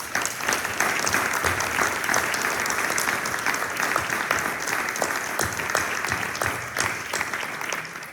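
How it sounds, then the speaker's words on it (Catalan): Steady, dense applause from a large audience at a town anniversary celebration in Sant Climent, filling the whole stretch at an even, sustained level without letting up. "Un fort aplaudiment per tots ells."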